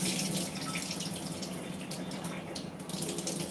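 Lentils and rice are rinsed in water for khichdi, a soft continuous splashing and trickling close by, fairly quiet and steady throughout, with no voices.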